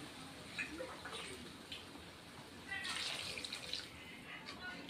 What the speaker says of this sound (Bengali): জল দিয়ে দিচ্ছি বন্ধুরা